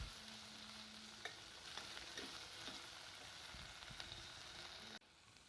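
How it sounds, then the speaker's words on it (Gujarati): Vegetables sautéing in oil in a pan for khichdi, a steady soft sizzle with occasional light stirring clicks, close and quiet, with no voices. "વેજીટેબલ્સને પણ અંદાજે 2 થી 3 મિનિટ માટે તેલમાં સાંતળી લેવાના છે."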